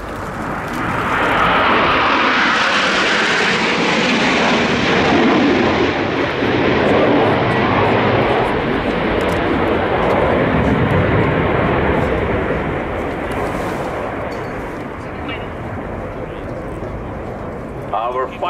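Patrouille Suisse Swiss Air Force jets fly in diamond formation at an air tattoo, a loud roaring engine rush that builds, sustains and slowly fades, with a commentator talking over it.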